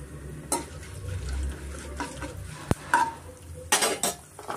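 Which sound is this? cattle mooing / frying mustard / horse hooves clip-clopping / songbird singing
frying mustard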